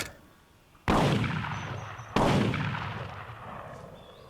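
Two loud shotgun blasts fired at clay targets, the second about a second after the first, each booming sharply and then rolling away in a long echoing tail across open ground.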